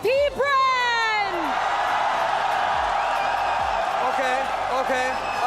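Esports fans of Falcons AP.Bren roar and whoop at a grand finals arena, a loud sustained crowd din with shouts and a few whistle-like cries rising above it, an announcer's voice briefly heard over the start.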